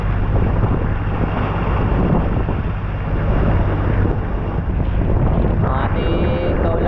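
Wind buffets the microphone loudly on a small boat at sea while waves slap against its hull from both sides, a constant rough roar with no breaks.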